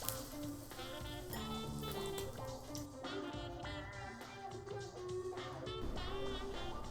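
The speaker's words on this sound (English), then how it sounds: "Once your butter starts to brown, add 2 or 3 pierogies. And cook these until they're just a little bit crispy." A few pierogies frying in browned butter in a pan, giving a steady, soft sizzle with light crackling and popping that stays even throughout.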